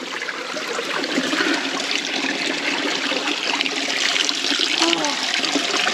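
A running stream along the Appalachian Trail in Vermont, close and loud, its water rushing and trickling in a continuous, dense wash with no talk.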